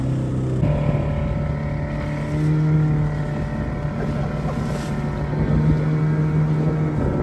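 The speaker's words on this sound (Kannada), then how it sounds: "ಈಗ ದೋಣಿ ಬಂತು, ಹಾಗೆ ನಾವು ಹೊರಡ್ತಾ ಇದ್ದೇವೆ" A fishing boat's motor drones steadily as the boat sets off from shore near St Mary's Island, a continuous low engine hum with wind buffeting the microphone throughout.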